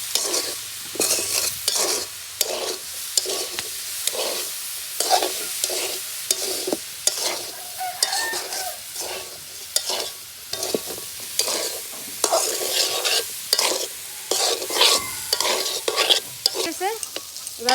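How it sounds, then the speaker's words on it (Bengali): Spices with turmeric and chili powder fry in hot oil while a spoon stirs in a quick regular rhythm, each scrape cutting through a continuous close sizzle; no one speaks. "তো সুন্দর করে আমি ঝরঝরা করে ভেজে নিব।"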